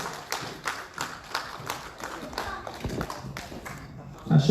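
Sparse, hesitant applause from a small audience at a talk on women's entrepreneurship, scattered claps and taps arriving irregularly with a voice heard near the end.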